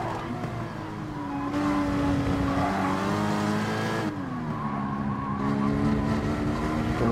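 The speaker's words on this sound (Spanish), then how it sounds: "Con el Porsche en la zona de curvas voy muy bien, pero me falta velocidad." A Porsche Group 4 race car in Gran Turismo Sport on the Lago Maggiore circuit carries a loud, sustained engine whine through the corners, its pitch sliding down and climbing again as it brakes and accelerates, with tire squeal underneath.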